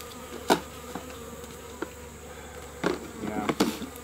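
Honeybees from a heavily mite-infested colony hum in a low, steady drone close by, with a few sharper buzzing passes and faint knocks over the hive's quiet background.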